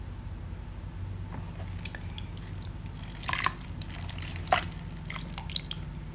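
Shower water patters and drips during a bath, with soft, irregular drops and a few louder splashes over a low, steady hum.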